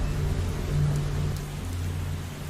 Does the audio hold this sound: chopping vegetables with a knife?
no